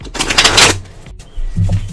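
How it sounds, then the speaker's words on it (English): Tarot cards shuffled by hand in a quick riffling burst, crisp and close, followed by softer sliding and tapping of the deck. "I'm going to shuffle for you guys."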